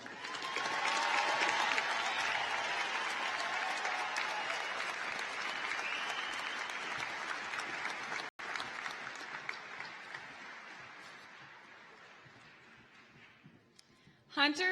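A large audience at a high school graduation ceremony applauds in a broad, sustained wave of clapping that gradually fades over about fourteen seconds before a brief louder sound at the end.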